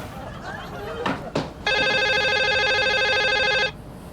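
A telephone rings in a home setting, a loud steady electronic ring lasting about two seconds and then stopping, after a couple of brief knocks and faint background noise.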